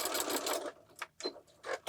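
A sewing machine back stitching along fabric, running in quick bursts of rapid mechanical whirring with brief pauses between them, close and moderately quiet. No one speaks.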